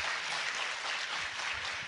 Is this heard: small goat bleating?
no